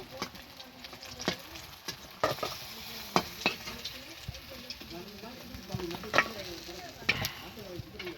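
Pieces of rohu fish fry in hot oil in a home kitchen, a steady close sizzle broken by irregular sharp clinks and scrapes of a utensil against the pan.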